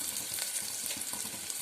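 Chopped onions and spices sizzle in hot oil for a tempering, a steady close crackling fry with faint stirring movements and no voices.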